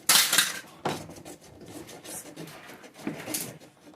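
A small hand hacksaw cutting a groove in a homemade fishing rod holder, heard as a few sharp scraping strokes, loud at first and then lighter, close up with no talk.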